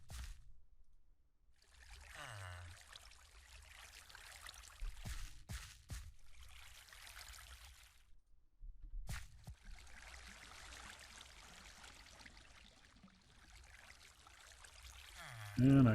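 Water poured block by block in a modded Minecraft world, a soft flowing trickle that starts and stops in several long stretches, with quiet clicks between pours.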